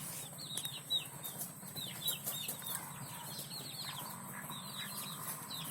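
Texas gamefowl chickens kept with pigeons on an island farm, with repeated soft clucks and chirpy calls scattered across a quiet outdoor background, moderately distant.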